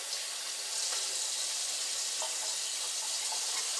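Tap water runs steadily into a kitchen sink, a continuous hissing splash heard close and alone.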